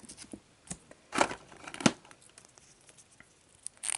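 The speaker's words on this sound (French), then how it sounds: "Ciseaux à la rescousse." Scissors cut open a plastic figurine packet, giving a couple of sharp snips amid light crinkling and tearing of the wrapper, close and fairly quiet, with no talking.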